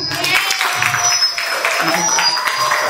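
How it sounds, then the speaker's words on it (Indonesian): Schoolchildren applaud a classmate during a group health education session, a fairly loud, sustained patter of clapping with voices and a faint tonal hum underneath. "Boleh tepuk tangan untuk Andika?"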